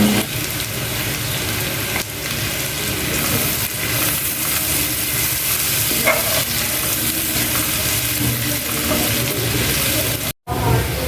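Onions sizzle loudly in a pan with salt and turmeric, a continuous crackling fry broken by occasional scraping stirs, with a brief sharp dropout near the end.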